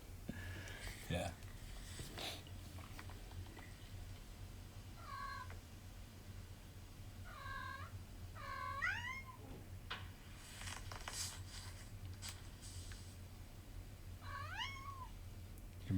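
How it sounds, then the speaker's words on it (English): Recorded cat meows played back on a speaker, several drawn-out rising and falling calls spaced apart, faint and slightly distant, with people talking quietly in the background. "I guess recorded their cat making that noise"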